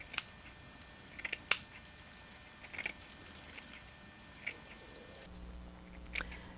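Scissors snip through the fibers of a craft tree made on an H&J Super Tree Machine, giving a handful of sharp, close clicks and crisp cuts spaced irregularly over a quiet background.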